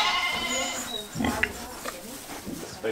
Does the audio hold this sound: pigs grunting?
yes